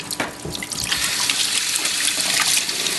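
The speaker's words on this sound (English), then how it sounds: "Let me wash my hands right quick." Tap water runs steadily into a sink while hands are washed, a close, continuous splashing hiss with no talking, in a home kitchen during meat prep for grilled chicken breast and bacon sub sandwiches.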